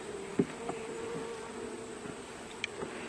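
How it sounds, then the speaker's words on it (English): Honeybees drone softly from an opened hive, a faint steady hum broken by a few brief louder buzzes as single bees fly close. "I'm going to pull another one to show you a little bit more of what goes on inside a honeybee hive"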